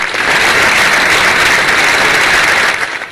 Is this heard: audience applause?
yes